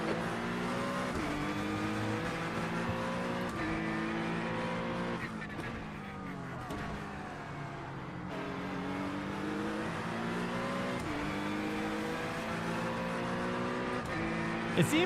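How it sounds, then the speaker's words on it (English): Race car engines in the iRacing sim during a GT3 race at Bathurst, several cars droning and shifting through revs continuously at close range, with choppy, glitchy layering from surrounding cars and faint tire squeal. "It seems like there's like a bug with the engine sounds too, with the cars around it."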